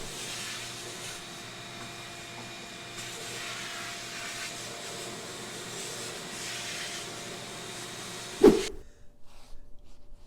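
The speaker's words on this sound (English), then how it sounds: "I'm going to actually get the shop vac out and vacuum it" A shop vac runs continuously with a steady whirring hiss while vacuuming sanding dust off a floor, then cuts off abruptly near the end, followed by a few faint knocks.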